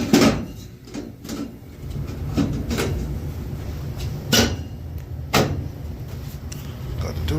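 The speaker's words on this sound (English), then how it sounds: "close this door so nothing flies into the house" A house door bangs shut as someone heads outside with a new air conditioner filter for an aging Carrier A/C unit; several sharp close knocks and clunks ring over a steady background hum.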